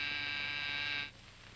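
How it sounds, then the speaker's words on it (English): A buzzer sounds with a steady, bright electric drone for about a second, then cuts off abruptly, leaving low hum and quiet room noise; no one talks. "Why the buzzer?"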